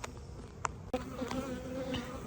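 Honey bees buzz from an open hive where many cluster on a frame, a close, steady drone with a few individual bees flying past louder.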